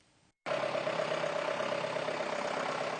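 A tractor engine on a farm in Île-de-France runs with a steady, loud droning hum. It starts abruptly after a brief quiet gap and then holds an even level throughout, with no speech.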